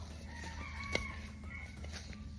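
A rooster crows faintly beside a garden on a farm in the morning, a short distant call over a low ambient background.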